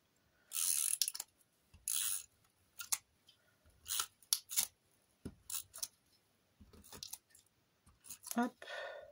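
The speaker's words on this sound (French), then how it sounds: "Je vais prendre ma souris colle." Glue tape roller pressed along paper while making giant greeting stamps, giving a series of short, close scratchy rasps in irregular bursts, with faint speech mixed in.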